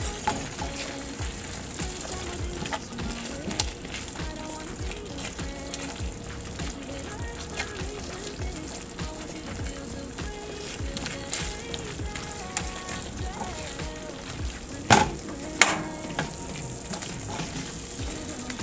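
Drained pasta being stirred in a hot pan, with a steady close sizzle and frying crackle running throughout, plus occasional sharp clicks and knocks of a utensil against the pan near the end.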